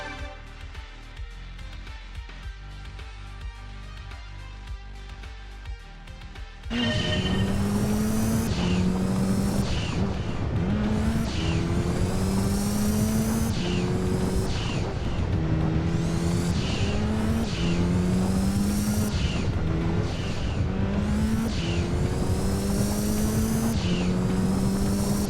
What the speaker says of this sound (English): IB2 Tahiti Dirt R3 with Mitsubishi Lancer Evo 5 red car from 98, 4-wheel drive